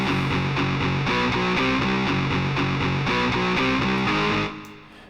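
A guitar played through the Airwindows GrindAmp amp simulator with gritty distortion, repeated rhythmic chords running steadily before they fade out at the end.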